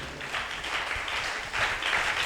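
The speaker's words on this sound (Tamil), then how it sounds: "கைத்தட்டி அப்பாக்கமே செலுத்துங்க" Tamil church congregation clapping hands together in praise during a Christian worship service, a steady wash of applause that holds throughout with a brief dip midway.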